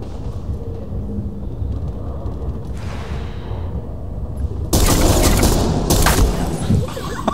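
Gunfire in the Ghost Recon Phantoms online shooter: a low rumbling battlefield bed, then a loud sharp burst of shots with crackling impacts near the end, no talk heard.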